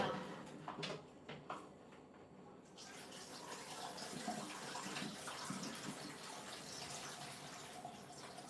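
Pasta is rinsed under a running kitchen tap. A few knocks and clatters come first, then a steady rush of water runs close and continuously to the end, with no talk.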